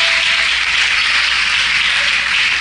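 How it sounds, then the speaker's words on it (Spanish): Steady, loud applause from a church congregation at an IPDA Venezuela service, an even wash of clapping sustained throughout without voices. "Fuerte los aplausos."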